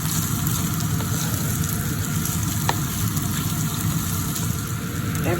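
Vegetables sautéing in a pan on medium heat for a lasagna filling, a steady close sizzle and hiss running throughout with a few light clicks of stirring.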